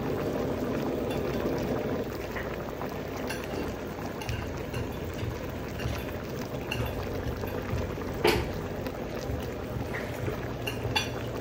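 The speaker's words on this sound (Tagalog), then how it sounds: "Ayan, kumukulo na po yan, guys." A pot of milkfish stew with eggplant and okra bubbles at a steady boil, a continuous soft burbling with occasional louder pops, no talking over it.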